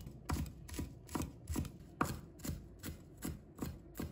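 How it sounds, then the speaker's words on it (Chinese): A knife chopping green garlic sprouts into small bits on a cutting board, about nine evenly spaced, close, crisp thuds in a steady rhythm, with no talking. "再准备一根蒜苗，把它切成小粒。"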